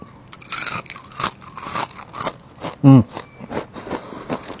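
Crispy fried bitter gourd snack crunches through a series of bites and chews up close, with crackly bursts and a brief whistly tone partway through.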